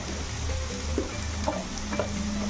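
Cabbage curry with potato, onion, chilli and turmeric masala frying in a pan, a steady soft sizzle with a few light clinks of stirring, close and continuous.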